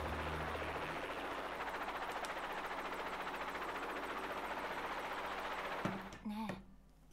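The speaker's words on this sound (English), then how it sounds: "Can we not do the whole thing with the helicopter noise, please?" Helicopter noise in the PS4 visual novel Psycho-Pass: Mandatory Happiness, a steady loud rotor drone that fills most of the stretch, then cuts off abruptly near the end into a brief voice.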